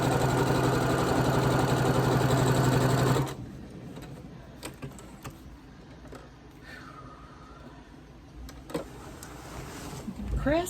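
A sewing machine stitches quilt pieces in a loud, fast steady whir for about three seconds, then stops, leaving quieter handling noises and clicks with some talk.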